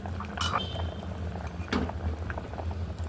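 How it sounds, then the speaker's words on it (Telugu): Chana dal simmering in a cooking pot with drumstick, onion, turmeric and tomato, giving a steady low bubbling hiss with a few soft clinks and pops, heard close and alone. "శనగపప్పు ఉడుకుతుంది"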